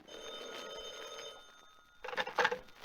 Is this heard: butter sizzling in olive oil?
no